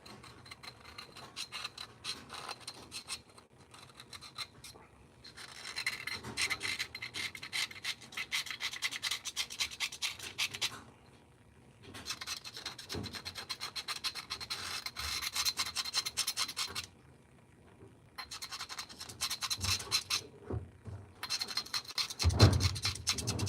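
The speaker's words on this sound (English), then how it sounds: "I'm going to scrape off some of that gunk that's in there" Grimy gunk being scraped out of the seal area of an outboard motor's lower unit, in rasping, scratchy bursts of several seconds split by short pauses, close and fairly quiet, with no speech.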